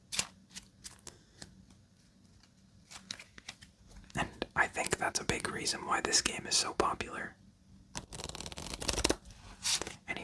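Playing cards being shuffled for a game of FreeCell solitaire, several crisp riffling bursts close to the microphone, interleaved with soft whispered talk.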